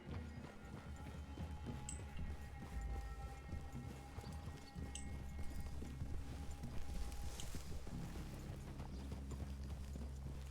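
Horse hooves clip-clop steadily through a forest clearing in the video game Red Dead Redemption 2, several horses walking close by, with quiet ambient game sounds and no talk.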